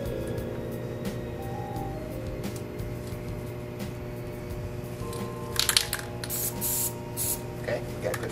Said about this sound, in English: clear it by holding it upside down, spraying it, and clean the nozzles out